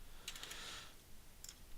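A few faint, quick keystrokes on a computer keyboard as scores are typed in, in small clusters separated by a quiet pause, with no talking.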